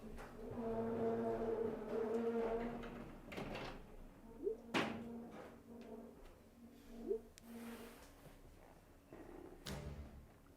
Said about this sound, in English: I might just close the doors.